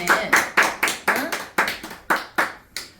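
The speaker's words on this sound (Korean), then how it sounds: "여러분 왜 박수를 안 쳐요?" Sharp, rhythmic hand claps at a memorial gathering, about a dozen evenly spaced claps close by, each with a quick decay, heard alone without talk.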